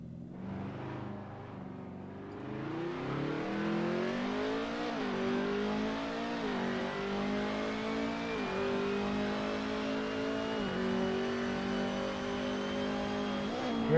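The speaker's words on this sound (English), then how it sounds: "Here goes Edgar in his time attack lap." A race car on a mountain touge road during a time attack lap, engine revving hard and climbing through the gears with brief dips at each shift, loud and steady throughout with no talk.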